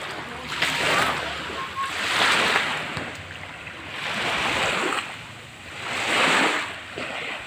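Ocean waves at San Remigio Beach in Cebu, washing in soft rolling swells that rise and fall about every two seconds, heard faint with light wind on the microphone.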